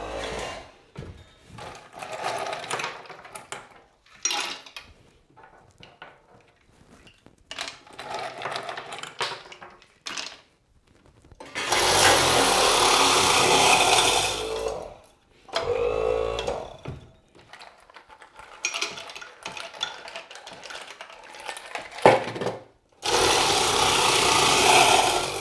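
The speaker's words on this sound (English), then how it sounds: "let's get this ice crushed." Ice is crushed in a machine while a bologna emulsion is prepared, heard as several loud grinding bursts of rough, rattling mechanical noise separated by quieter handling sounds.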